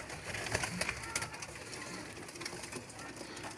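Domestic pigeons of the Sialkoti Ali wala breed give soft, close coos while being held in the hand, a low murmur running through a steady background hiss with faint voice sounds mixed in.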